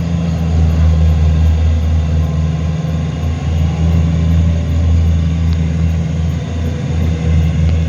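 A tractor engine strains to pull a combine harvester stuck in mud: a loud, steady low drone with a constant hum that runs unbroken throughout, with no voices.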